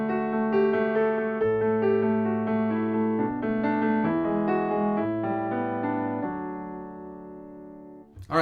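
Solo piano plays the third part of an Ode to Joy theme arrangement. Clear melodic notes move over sustained lower chords, with close, moderate loudness, before the final notes ring out and fade with no speech.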